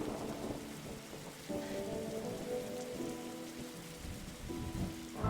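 Steady rain falls in the video game The Darkside Detective, a continuous soft patter on surfaces with low rumbling underneath, even and unbroken throughout with no voices.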